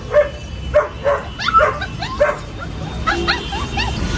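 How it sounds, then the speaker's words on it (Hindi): Small puppy yipping and barking in short repeated bursts, fairly close, with a few whimpery high yelps between barks; people talk softly in the background. "बहुत अच्छे अच्छे क्यूट क्यूट डॉगी है ये छोटा देखो कितना छोटा है"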